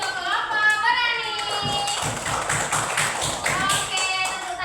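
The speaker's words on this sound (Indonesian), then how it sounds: "tepuk tangan untuk kelompok berani" Applause for a group of schoolchildren in an elementary classroom: a burst of fairly close clapping from many small hands, steady and dense for a few seconds, with a teacher's and children's voices talking over the start and end.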